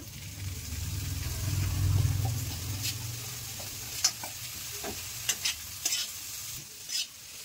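Garlic, onion and mixed vegetables for a veg momo filling stir-fry in a pan, a steady low sizzle with a few sharp spatula scrapes and clicks toward the end, close and without talk.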